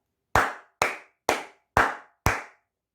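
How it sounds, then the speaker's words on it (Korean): Five sharp, evenly spaced hand claps ring out alone, each a crisp close snap with a brief decay, in a steady rhythm of about two per second. "크게 박수 한번 치고 가도록 하겠습니다"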